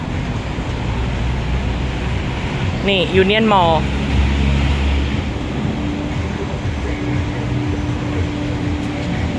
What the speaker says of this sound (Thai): โอ้รถไฟฟ้าไปพอดี